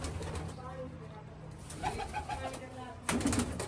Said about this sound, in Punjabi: ਕਬੂਤਰ ਬਾਈ ਕਾਫੀ ਉੱਡ ਰਹੇ ਆ